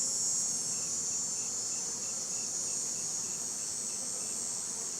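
Honey bees in an opened hive during a winter readiness check, a steady high-pitched buzzing hum that stays constant and fairly close, with no talking.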